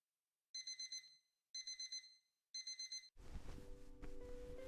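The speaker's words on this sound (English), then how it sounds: "Oh, why did I set this alarm so early?" Three rapid bursts of electronic beeping from an alarm clock, each a quick cluster of tones with silent gaps between, then a rustling, noisy room sound once it stops.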